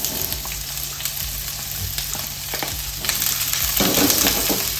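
Chopped onions sizzle and fry in a pan with ginger, garlic and green chilli for a home chicken curry, a steady close crackle that grows a little louder toward the end, with faint stirring.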